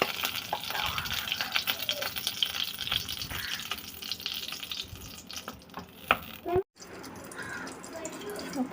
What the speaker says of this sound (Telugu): స్టవ్ మీద కళాయి పెట్టుకొని ఇప్పుడు అందులోనే నెయ్యి యాడ్ చేస్తున్నాను.